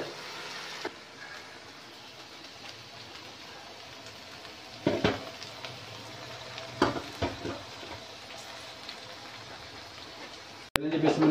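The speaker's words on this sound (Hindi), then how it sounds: "इसको ऐसे अच्छी तरह से मैं फ्राई कर लूँ, प्याज भी ब्राउन हो जाए" Onions frying in a pan for restaurant-style masala bhindi, a low steady sizzle with occasional stirring scrapes and clinks, and a sharp clatter near the end.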